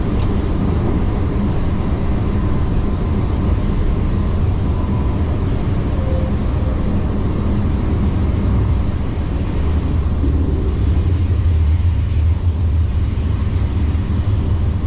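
An Airbus A330 jet takes off and climbs from a blue ice runway in Antarctica, a steady loud roar of engine noise with deep rumble throughout and no voices.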